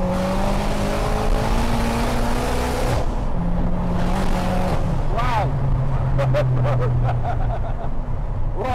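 A 502bhp Ford Fiesta ST150 accelerates hard in third gear, its engine note loud and rising with a gear-like whine, while people talk excitedly over it.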